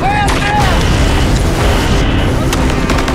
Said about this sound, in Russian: Советские батареи дали новый залп